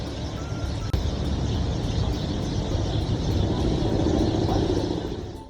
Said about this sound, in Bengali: বিরতি শেষে আবারও ছুটে চললো আমাদের বাস